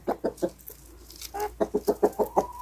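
Chickens cluck in a chicken coop, a quick series of short clucks in two clusters with a brief gap, close but fairly quiet, no talk over them.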